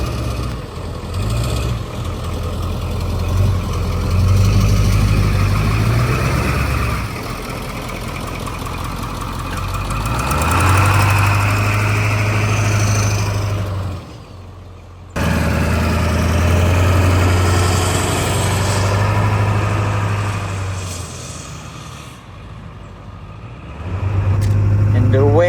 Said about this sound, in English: Already from the high idle, you can hear the turbo more.